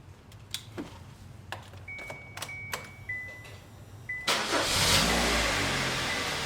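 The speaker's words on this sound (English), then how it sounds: "Go ahead and start the car." A Kia Optima is started: a few clicks and chimes inside the cabin come first, then the engine cranks and catches, settling into a steady idle close by.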